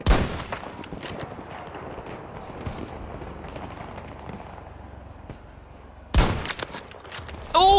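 Gunfire in the shooter Battlefield 2042: scattered faint shots and distant rumble, then a loud close burst of shots near the end, with a brief voice heard faintly.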